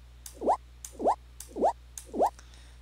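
A short game sound effect in the Godot engine, played four times at an even pace about half a second apart. Each is a soft, wet, swooshing plop whose pitch shifts slightly from one to the next, over a steady low electrical hum.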